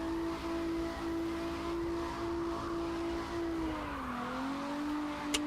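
A race car's engine in the CarX racing video game holds a steady droning revving tone, dipping briefly in pitch before climbing back, continuous and fairly faint with no talking.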